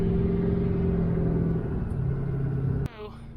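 An old ranch pickup truck with a bale bed, its engine running steadily as it drives, a loud continuous low rumble that cuts off abruptly near the end.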